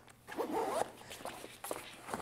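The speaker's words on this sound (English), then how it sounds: "So I have the zippers up here right now" A zipper on a Lowe Alpine Depot 25L backpack is pulled open in one long rasping stroke, close and clear, followed by a few softer handling rustles and a short second zip.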